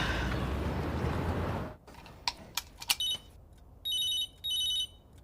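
A telephone rings in short electronic bursts, two clear rings after a noisy stretch and a few clicks and taps, fairly close with no talk.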